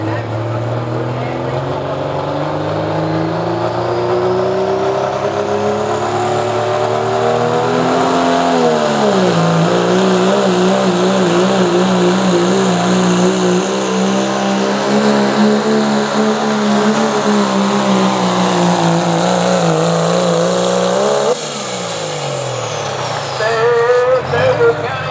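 A Dodge pulling truck's engine roars loud and close through a truck pull run at a Caldwell, Ohio tractor and truck pull, pitch sweeping and holding steady under the strain before the throttle drops near the end, with an announcer talking over it.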